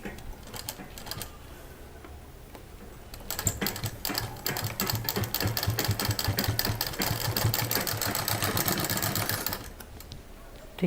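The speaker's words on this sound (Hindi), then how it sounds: "अब इसको भी ऊपर से सिल देते हैं।" A sewing machine stitching a homemade DIY office bag runs in a steady, rapid mechanical patter, starting with a few short bursts and then a long continuous run before stopping.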